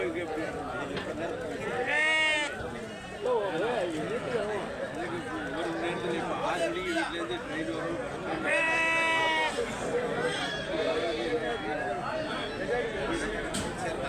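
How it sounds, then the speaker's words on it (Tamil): Sheep bleat a couple of times at a crowded livestock market, partly buried under steady nearby talk and the chatter of the crowd. "இது ஒன்று பொட்ட செம்மறி"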